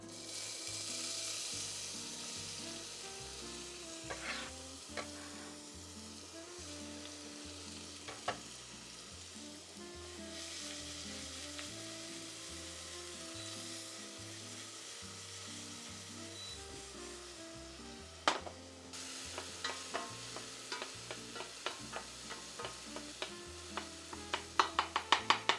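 An onion fries in a pan for meatball subs, giving a faint, steady sizzle under a low hum, with light clicks and clatters of stirring growing more frequent toward the end and no talking.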